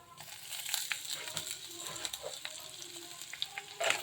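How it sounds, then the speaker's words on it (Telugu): Ginger frying in a pan for tomato bath, a steady close sizzle with crackles and occasional clicks of a spoon against the pan, no voices. "మంచిగా ఫ్రై అయింది దీంట్లో అల్లం"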